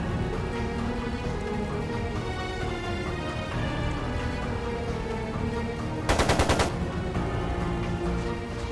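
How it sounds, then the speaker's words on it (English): Machine gun fire in the video game Trails of Cold Steel II, a short rapid burst of shots lasting under a second over a background of game music. "It sounded like a machine gun."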